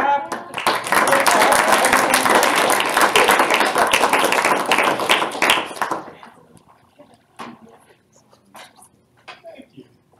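An audience at a student senate meeting claps for about six seconds, a dense burst of many hands in a room, before it fades into near-quiet with a few scattered sounds.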